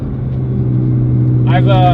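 Nissan GT-R accelerating in second gear up a double hairpin on a canyon road, a steady low engine drone heard from inside, with someone talking over it toward the end.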